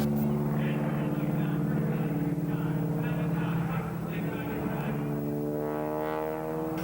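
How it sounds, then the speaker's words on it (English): Aerobatic airplane engine growling steadily at an air show over Addison, Texas, a low droning tone that shifts in pitch as the plane maneuvers, heard at a moderate distance with a narrator talking over it. "listen to that engine growl away"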